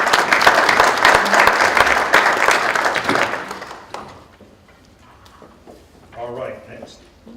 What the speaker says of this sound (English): your entire team deserves a big round of applause